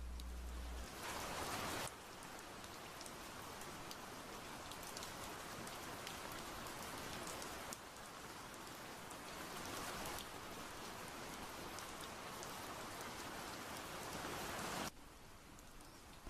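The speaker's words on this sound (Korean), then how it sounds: "비가 내리는 소리가 들려온다." Steady rain falls and patters on surfaces, a soft, even hiss of drops that continues without pause at low volume, with no voices.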